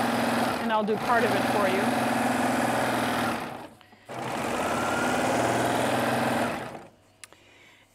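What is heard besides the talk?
serger sewing machine trimming fabric edge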